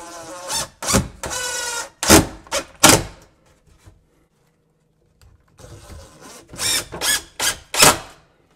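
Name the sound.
power drill driving drywall screws into a cabinet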